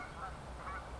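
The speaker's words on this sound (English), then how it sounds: "The geese are cheering on Virginia" Geese honk on a disc golf course, distant and fairly faint, with two brief calls over outdoor background noise.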